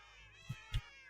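Two short, soft cat meows in quick succession, faint and close, over a quiet background.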